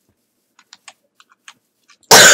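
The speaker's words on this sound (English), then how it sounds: "you guys have had to hear me cough all the time" A person coughs once, a sudden loud close burst near the end, after a run of faint scattered clicks in a quiet room.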